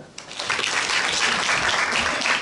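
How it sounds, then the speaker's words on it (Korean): Trainees at a police training centre lecture break into loud, dense applause that swells in after a brief quiet start and holds strongly for a couple of seconds, close and full. "박수 한번 주더라"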